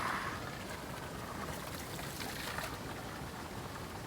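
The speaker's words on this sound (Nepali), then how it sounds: "यस्तो बबाल धारामा पानी आउँछ।" Spring water pours steadily from a stone spout, a soft continuous rushing and trickling that stays even and fairly quiet throughout with no voices.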